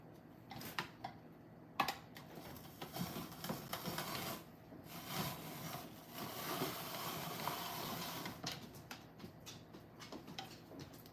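A kitchen appliance grates an apple on a setting meant for cheese, giving a continuous whirring, chattering mechanical noise with intermittent clicks and bursts, moderately loud, without speech.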